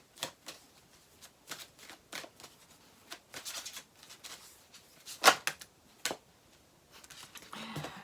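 Tarot cards being shuffled in quick, crisp riffles and flicks, close and fairly quiet, with scattered pauses between bursts and no speech.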